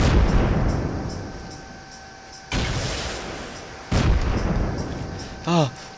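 Incendiary rockets from a rocket launcher in the game Rust blast twice in quick succession, each a loud, sharp explosion trailing into noisy rumble, followed by a short warbling electronic tone.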